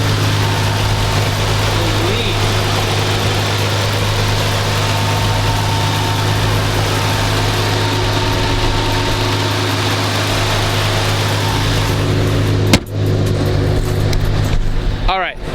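A supercar engine with 13,000 miles idles close by, a loud, steady low rumble holding evenly, with a sharp knock near the end.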